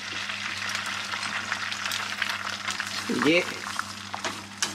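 Egg dropped into about one and a half tablespoons of hot oil in a pan, frying over high heat for a soft, half-set texture; a steady sizzle runs throughout beneath a low hum, with a brief louder splash of sizzling midway and a voice speaking briefly.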